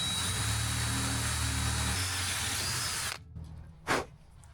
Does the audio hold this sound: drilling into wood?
yes